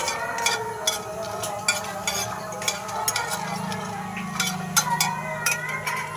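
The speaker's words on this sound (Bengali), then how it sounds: "তারপর একে একে গরম মশলা, এলাচ, লং, দারচিনি সব একসাথে দিয়ে নাড়াচাড়া করলাম।" Whole cardamom, cloves and cinnamon are stirred in hot oil in a pan, giving a steady sizzle with repeated scraping and clinking strokes of the spoon, close and moderately loud, with no talk.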